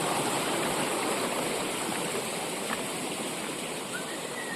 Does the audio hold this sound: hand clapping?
no